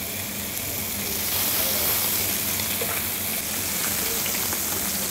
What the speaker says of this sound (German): Und jetzt können sie schon in die vorgeheizte Pfanne.